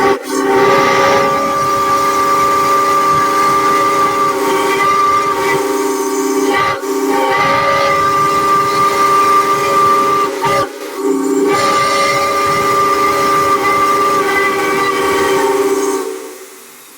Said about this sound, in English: is a Baltimore and Ohio 6-chime passenger whistle